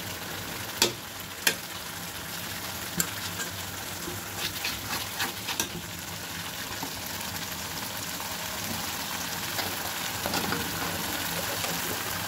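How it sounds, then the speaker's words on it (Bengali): Pieces of pointed gourd fry in a pan with a steady, soft sizzle, and a few sharp clacks and scraping stirs break through the sizzle now and then. "পটলগুলো কিন্তু ভালো করে ভাজা নিচ্ছি।"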